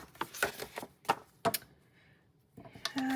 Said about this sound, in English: Scissors. Snips. Trim that.